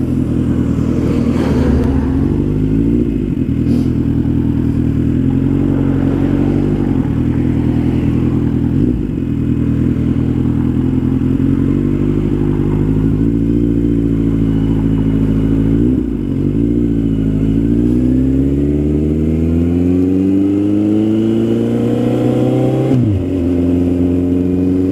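A 2008 Suzuki Bandit 1250S motorcycle is ridden with its engine droning loudly and steadily throughout, its pitch rising and falling through gear changes and a long final climb as it accelerates.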